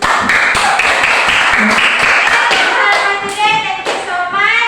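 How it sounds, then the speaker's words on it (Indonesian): A crowd claps steadily and loudly for a few seconds, with voices calling out as the clapping tapers. "Tepuk tangan dulu"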